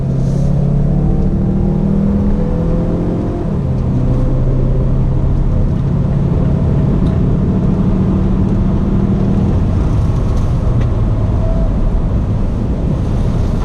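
A 2019 Mazda CX-5 Signature all-wheel-drive turbo SUV accelerates hard, a loud rising engine drone with an upshift around three seconds, under heavy wind and road roar from inside the cabin.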